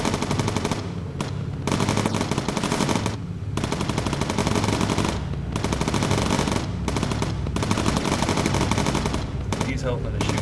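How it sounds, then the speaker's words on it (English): Sustained rapid machine gun fire from a bomber's bombardier in the Bomber Crew video game, dense repeated bursts running almost throughout, with brief pauses, over a low engine drone. "He's helping to shoot in the front."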